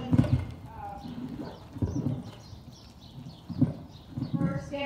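Horse hooves clip-clop at a steady riding pace, the beats spaced unevenly and fairly close, with a person's voice talking over them at times.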